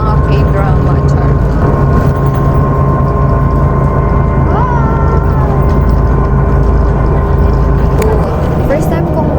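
A moving city bus in Taiwan fills the cabin with a loud steady engine drone and road rumble, with a few faint tonal whines and occasional clunks.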